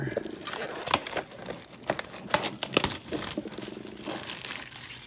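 Plastic wrap crinkling and tearing as it is cut off a Topps 2020 holiday trading card box, close and fairly loud, in bursts of crackling and ripping throughout.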